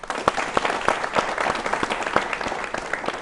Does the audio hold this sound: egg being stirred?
no